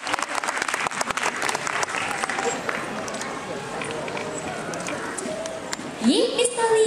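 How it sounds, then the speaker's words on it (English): Audience applause at a kindergarten Christmas concert, many hands clapping in a dense crackle that thins out toward the end as children's voices and movement come in, followed by a brief rising tone. "Big clap for K2 Triangle!"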